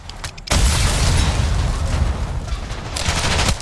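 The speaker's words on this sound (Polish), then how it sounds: "Auta wybuchają." Cars explode amid gunfire in a Call of Duty match, a sudden loud blast giving way to sustained, crackling bursts of noise and rumble that flare up again near the end.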